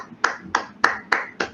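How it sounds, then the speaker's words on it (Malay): A few people clap for a performer named Tion, with five sharp separate claps at an even, unhurried rhythm, close and fairly loud in a quiet room. "kita bagi tepukan yang gemuruh, untuk beliau"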